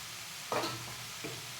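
Capsicum and tomatoes drop into a hot pan of onions for a green turmeric sabzi, giving a brief sizzle and stirring scrape at moderate level, followed by a softer second clatter near the end.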